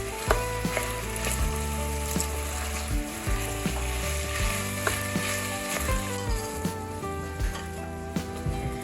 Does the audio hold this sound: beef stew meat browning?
yes